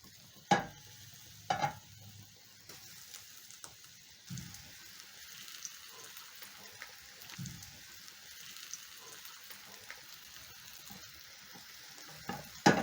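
Cornstarch-coated fish frying in oil in a pan, a soft, steady crackle and sizzle with occasional louder pops and clatters of pieces being placed, no talking.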